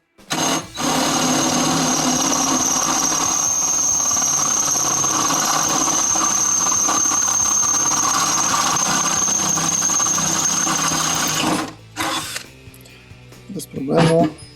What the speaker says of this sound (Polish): spróbujemy to rozwiercić do dziesiątki